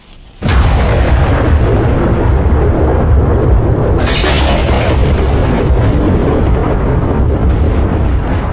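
Thunder rumbling through a heavy tropical rainstorm, heard from inside a car with automatic wipers running, a sharp loud onset followed by a sustained low roar and a second crack about midway, dense steady rain noise throughout.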